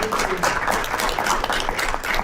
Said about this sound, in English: Please, let's be clapping for this, for your fellow farmers.